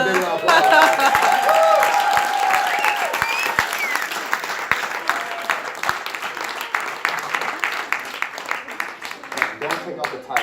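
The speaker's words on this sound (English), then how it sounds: "Give a big round of applause." An audience breaks into loud, sustained applause at an event coaching children on branding their chocolate business, dense clapping that slowly fades while a voice speaks over it near the start.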